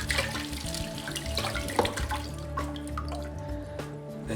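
Tap water runs steadily over flood-damaged photographs, a soft splashing stream with scattered drips, close and moderately quiet, with no voices.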